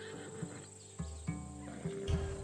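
A horse in the video game Assassin's Creed Odyssey gives a few short, snorting whinnies and hoof sounds over a steady low hum of game ambience, fairly close and moderately loud.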